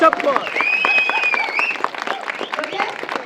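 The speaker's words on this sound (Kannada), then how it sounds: "ಎರಡು ಸೈಡ್ ಮಾತ್ರ ಚಪ್ಪಾಳೆ ತಟ್ಟಿದ್ರು" Audience clapping at a special screening of a Kannada film in Dubai, a short burst of moderate applause from part of the hall, mixed with a voice speaking.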